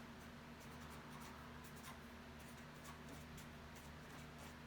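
A pen or pencil writing numbers by hand on paper, quiet, close scratching in short strokes and pauses, continuous and faint over a soft background hum, no voices.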